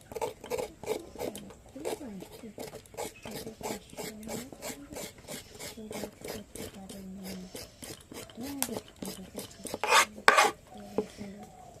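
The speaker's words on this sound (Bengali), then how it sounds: "এগুলোকে হালকা করে একটু চেঁচে নেব এইভাবে" A knife scrapes root hairs off hybrid carrots in quick rhythmic strokes, close raspy scratches repeating steadily while a person talks softly over them.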